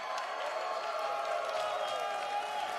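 A crowd at an esports finals event cheering and clapping in a steady, dense wash of noise that stays at one level throughout, heard from within the hall with no clear words.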